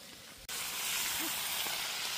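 Food frying over an open fire at a fishing resort in Manitoba, giving a steady loud sizzle and hiss after a brief cut, close up and without talk.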